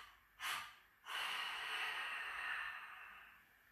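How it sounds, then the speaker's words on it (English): Slow, deep breathing during a relaxing hypopressive exercise: a short audible inhale, a brief pause, then a long airy exhale that fades gradually, close to the listener with no talking. "Inhale, exhale."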